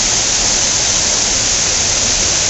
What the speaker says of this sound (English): there is a great little waterfall here in Milford